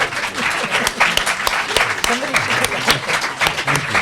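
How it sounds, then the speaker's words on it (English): An audience applauds at a literary reading and conversation, a steady and fairly loud wash of many hands clapping close by that lasts throughout, with faint voices mixed in. "before we give a round of applause"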